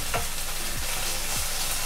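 Ginger frying in a pan over medium heat gives a steady, close sizzle throughout, with a few soft low knocks from stirring.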